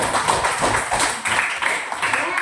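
A classroom of students claps together in a dense, continuous patter of many hands that stays loud and close throughout. A few voices mix in beneath it.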